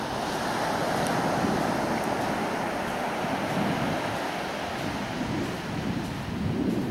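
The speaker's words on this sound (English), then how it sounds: "Look how clean that beach is, white. Cold wind coming from the north though." Cold north wind buffets the microphone over steady surf washing onto a clean white-sand beach at Lochinver, a continuous broad roar with no break throughout.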